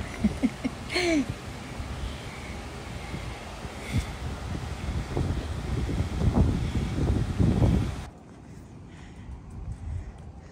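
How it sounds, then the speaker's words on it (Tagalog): Strong wind roars and buffets the microphone continuously on a street in Osaka, Japan, with gusty rumbling bursts, before dropping suddenly to a quieter rustle near the end. "Naririnig niyo po guys, ang lakas po ng hangin."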